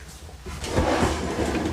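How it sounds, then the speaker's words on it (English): A soft-closing drawer in a luxury fifth wheel RV slides out on its runners with a soft rolling rumble, a single smooth motion that is close and moderately quiet. "They're all soft closing cabinets and slow closing drawers as well."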